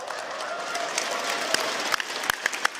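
A crowd at a live esports event for a competitive map-based game applauds, with a broad wash of clapping and a few sharp louder claps standing out toward the end, moderately distant.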